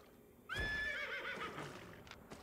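A horse mount in the video game Albion Online gives a single loud neigh that rises and then shakes downward over about a second. A soft background ambience runs under it and a faint tail continues after, with no talking.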